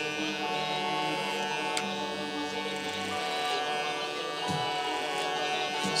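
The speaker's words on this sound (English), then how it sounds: "lever all the way open on my clipper, and we're gonna attack some of this weight" An electric hair clipper hums and buzzes steadily at close range while cutting hair with the lever open, a faint continuous whir with slight changes in pitch as it moves through the hair.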